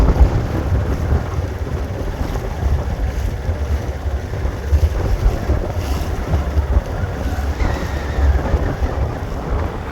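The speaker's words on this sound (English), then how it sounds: "Motor sailing up the ICW, northern Florida." Strong wind of about 20 knots buffets the microphone over a steady engine drone and the wash of water against a sailboat motor sailing up the Intracoastal Waterway in northern Florida, continuous and loud throughout.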